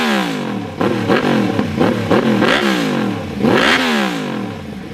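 A 1998 Yamaha YZF R1 sport bike with its cross-plane crankshaft inline-four engine revs hard in a run of quick rising and falling blips, then one longer sweep up and back down, loud and close with no talking.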